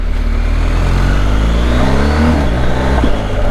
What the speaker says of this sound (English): ron von Grumble used to commute into London, he would sort of accelerate between lights, and it was just that sort of whoop, whoop, whoop, and it just sounds so good.